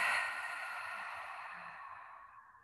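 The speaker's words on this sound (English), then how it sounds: "We'll inhale through the nose and open the lips to exhale." A deep, open-lipped cleansing exhale during a yoga session, a soft, breathy rush of air that is strongest at the start and fades gradually over a few seconds, close and alone.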